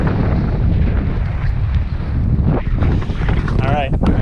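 Strong wind buffets the microphone on a granite mountain summit in the Wichita Mountains, a steady loud roaring rush with gusty swells throughout.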